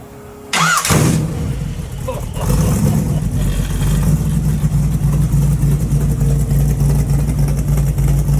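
A chromed-out Model T engine catches with a sudden start, then settles into a steady, close, throbbing idle. A voice is briefly heard near the start.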